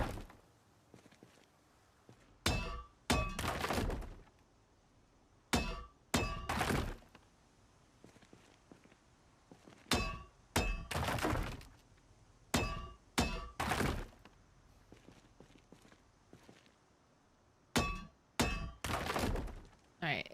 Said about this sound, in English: am I getting things by destroying these with the sledgehammer?